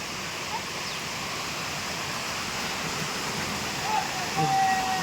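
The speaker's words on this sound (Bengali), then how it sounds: "এই জল পড়ছে এই যে, ভালো ছোটোখাটো জলপ্রপাত।" Turga Falls, a small waterfall in Purulia, pours in a steady, even rush of falling water that fills the scene at moderate level, with a faint brief tone near the end.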